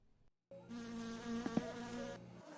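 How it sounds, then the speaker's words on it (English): A buzzing fly in a video game drones steadily for about two seconds, loud and close, with a couple of sharp flicks near the middle before cutting off. "A fly."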